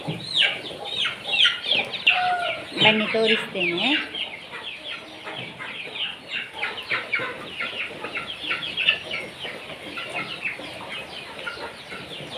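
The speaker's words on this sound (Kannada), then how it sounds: "ಇದು ಫೈಟಿಂಗ್ ಕೋಳಿ" A tethered fighting rooster on a country-chicken farm clucks repeatedly in short nearby bursts, with a voice briefly speaking over the calls.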